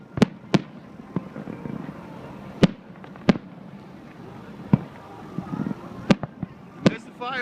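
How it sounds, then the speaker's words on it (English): Fireworks burst at Electric Daisy Carnival in Las Vegas, sharp distant booms scattered irregularly a second or more apart, heard under a low background murmur with faint voices. "There's the fireworks."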